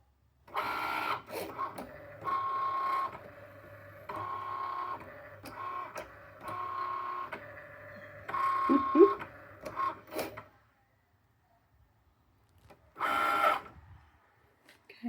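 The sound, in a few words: Cricut cutting machine cutting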